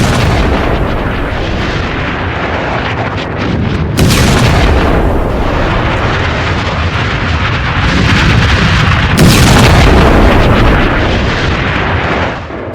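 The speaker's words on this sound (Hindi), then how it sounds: "इजराइल ने जो टनल है, सुरंग, उसमें धमाका करके उसे उड़ा दिया है" A tunnel blast in Gaza, a loud, continuous roaring detonation with sharp renewed bursts partway through, heavy low rumble filling the whole stretch before it cuts off.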